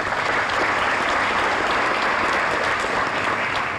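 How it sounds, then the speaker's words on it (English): A banquet crowd at a teenager of the year awards dinner claps in a steady, dense burst of applause that holds evenly for a few seconds with no break. "Let's give them all another round of applause"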